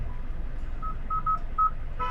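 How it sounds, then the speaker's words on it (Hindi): Short electronic beep tones from a Kia Sonet GTX touchscreen infotainment system, about four clean tones in quick uneven succession over a low background hum, fairly close and without talking. "तो ये जो बीप वॉल्यूम है वो भी आप चाहे तो कम कर सकते हैं यहाँ पर।"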